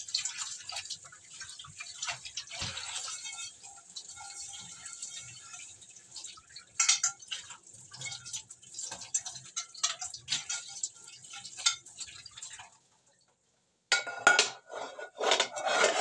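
Dishes, pots and pans being washed by hand with running water: steady trickling and dripping broken by clinks of crockery and metal, a brief silent pause, then more splashing and clattering close by.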